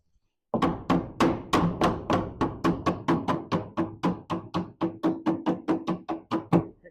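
Repeated metal hammer blows bend a Porsche 356 floor pan flange back into place, roughly twenty sharp knocks in a fast, steady rhythm, loud and close, with no talking.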